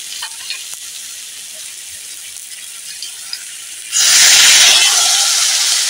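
Papaya pieces fry in a pan with turmeric and salt, giving a steady soft sizzle that suddenly swells into a loud, bright hiss and crackle as more goes into the hot oil, continuing close and alone.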